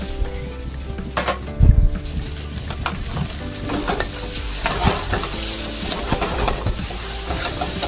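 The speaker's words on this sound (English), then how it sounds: "Drop in the rice." Rice tossed into a hot pan with minced garlic sizzles and crackles steadily while being stirred, with a sharp scrape of the spatula against the pan near the start and continued stirring noises after it.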